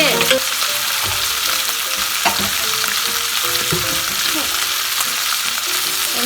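Cabbage rolls wrapped in pork thigh fry in a pan with a dense, steady sizzle, broken by occasional scrapes and clicks of stirring, close and continuous.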